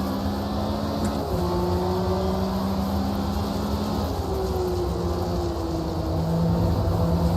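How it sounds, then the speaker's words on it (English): Opponent cars' engines drone and whine in an Automobilista 2 race at Watkins Glen, with a loud steady engine roar and shifting pitched tones as rival machines pass nearby, no voices over it. "I love the sound of the other car's engines coming through."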